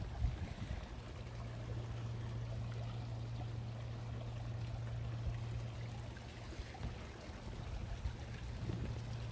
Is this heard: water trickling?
yes